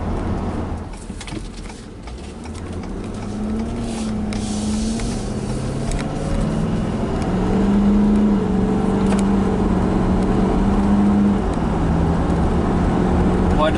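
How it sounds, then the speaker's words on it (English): A 2019 Ford F-250 Super Duty King Ranch Platinum pickup accelerating through its gears, heard from inside the cab: a steady engine drone rising in pitch, with shift changes and road noise underneath. "I just love running through the gears."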